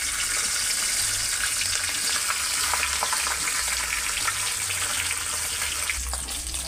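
Katla fish heads frying in hot oil in a pan: a dense, continuous loud sizzle and crackle up close, steady throughout with no talk.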